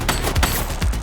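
Gunfire from a fleeing suspect in a red jacket during a police chase in the PC game The Precinct: a few sharp, loud bursts of shots spaced across a second, over a low rumbling game soundtrack.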